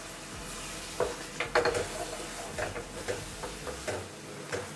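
Tomato paste goes into a pan of frying onions and tomatoes and is stirred for a prawn gravy, with a soft steady sizzle under a series of scraping, clacking spoon strokes against the pan.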